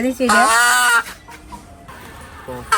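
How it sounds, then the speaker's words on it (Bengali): A domestic village chicken raised at home gives a loud, drawn-out clucking call up close, followed by a quieter stretch of faint background noise and a brief final cluck. "আমাদের ঘরের মধ্যে পালিত মুরগি"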